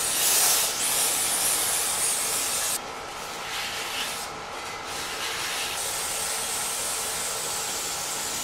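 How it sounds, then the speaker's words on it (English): Brake cleaner sprayed from an aerosol can onto the brake shoes and inside the drum of a 1962 AMC Rambler, a steady loud hiss that runs throughout, easing slightly after a brief pause partway through. "We'll spray the brake shoes off and inside of the drum out with some brake cleaner real quick"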